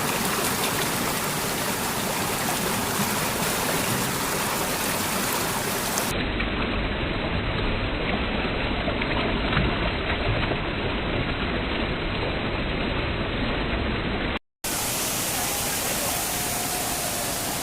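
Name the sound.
Benki Falls water rushing through narrow gap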